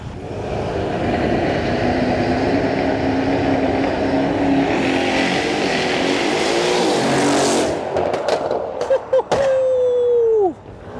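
Mercedes-AMG cars rev and roll out at a car meet, a loud sustained engine roar that swells and builds before breaking into sharp blips and a falling whine near the end.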